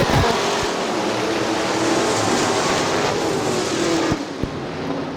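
IMCA modified race cars roar at the green flag at Crystal Motor Speedway in Crystal, Michigan, a loud continuous pack of engines droning and revving together on the dirt oval, dipping briefly near the end.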